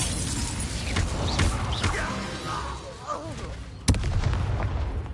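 An Incendio fire spell cast in a Harry Potter video game, a whooshing burst of flame with crackling effects and a sharp impact near the end, heard over in-game voices and background battle noise.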